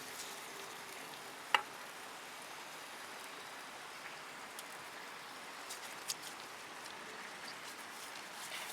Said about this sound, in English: You can hear it sizzling on the griller queue.